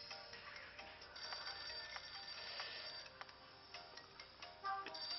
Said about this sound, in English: The phone's ringing. That's an old-fashioned phone.